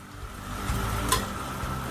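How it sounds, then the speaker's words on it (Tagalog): Food sizzling and frying in a kawali, a steady hiss and crackle close up with a few clinks of stirring, no voices over it. "Sasalang na tayo sa kawali."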